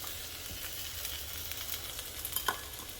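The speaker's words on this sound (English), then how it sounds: "so the garlic doesn't burn when you go to toast them on your griddle" Garlic cloves with skins left on toast on a hot griddle, giving a soft, steady sizzle with faint crackles and a couple of small pops, close and quiet with no talking.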